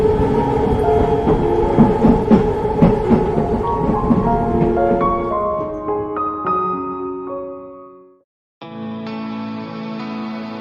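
A metro train rumbles and clatters through a station, the rolling noise gradually settling into pitched braking tones before a short silence and a steady electric hum, loud and close without any talk.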